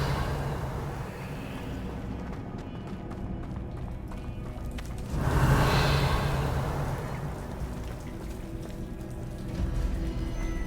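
The Revelio spell cast in the video game Hogwarts Legacy, a swelling whooshing shimmer that rises midway over a continuous game ambience with footsteps and breathing.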